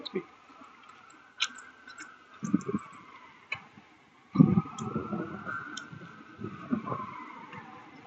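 A distant emergency siren wails in a slow rising and falling sweep over downtown Toronto traffic noise, with occasional bumps and clicks nearby.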